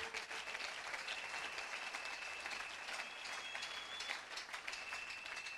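A church congregation breaks into sustained applause in praise of God, dense steady clapping filling the room from start to finish, with no talk over it.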